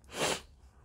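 One sharp human sneeze, close and loud, an airy burst lasting under half a second before falling to quiet.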